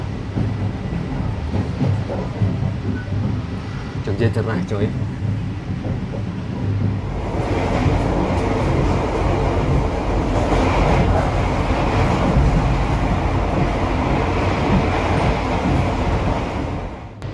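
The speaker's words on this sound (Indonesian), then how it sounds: "Kereta bandara." An airport train passes close by on the line, its broad rumble and rail clatter building and holding loud, with one brief spoken line over the noise.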